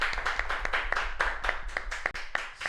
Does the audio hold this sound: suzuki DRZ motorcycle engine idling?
no